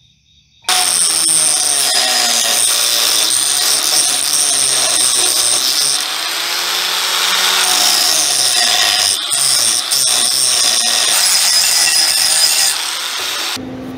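Power tool cutting out a small section of a metal plate while fabricating a rack and pinion system for a 1940 Chevy coupe, a continuous loud high-pitched grinding whine lasting over twelve seconds with slight shifts in pitch as the cut progresses.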